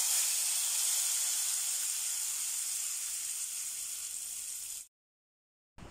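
Hot fried tempering goes into mango pulissery and sets off a steady, bright sizzle that slowly fades for several seconds before stopping abruptly, with no voices.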